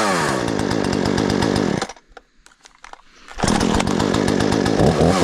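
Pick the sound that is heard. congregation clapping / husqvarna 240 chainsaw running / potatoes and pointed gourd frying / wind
husqvarna 240 chainsaw running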